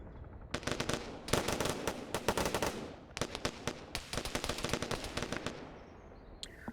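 Video game gunfire comes in rapid automatic bursts separated by short pauses, loud and close, with a faint trailing sound at the end.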